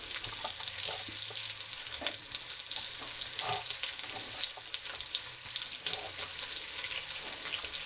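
Half a sliced onion and half a small carrot fry in plenty of fat for a French recipe, a continuous bright sizzle with occasional stirring scrapes, close and steady with no talking.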